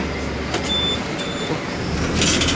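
A city bus in Brazil rumbles close by with a low engine drone, broken by a few brief clanks and a hiss or rattle near the end, with no talk over it.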